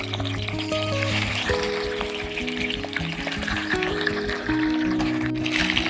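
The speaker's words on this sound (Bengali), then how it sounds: "তেল হালকা গরম হলে এবার আমি ম্যারিনেটেড মাছগুলো দিয়ে দিলাম।" Marinated pomfret fish dropped into hot mustard oil in a kadai, sizzling and frying steadily and loudly at close range, with a dense crackling hiss throughout and no talking.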